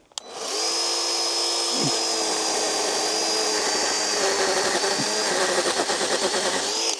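A mini chainsaw with a 30-centimetre bar cutting through a tree branch: a steady, close, high-pitched whine held for several seconds, with the motor note dipping briefly as it bites into the wood.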